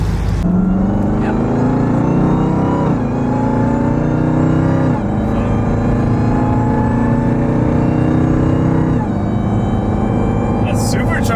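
A supercharged 1000 hp Jeep Trackhawk roars loudly under hard acceleration, its engine tone climbing through repeated gear steps with a supercharger whine, continuous and close.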